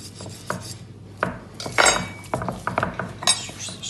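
A knife nicks and scrapes at a raw beef fillet on a board, with irregular sharp clicks and taps of metal close by.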